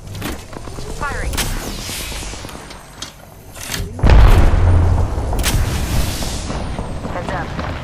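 Gunfire bursts in a battle royale shooter match, loud near shots with a heavy boom around the midpoint followed by sustained firing over game noise and music.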